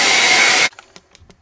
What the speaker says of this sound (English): once that's wet, I'm going to blow it with my hairdryer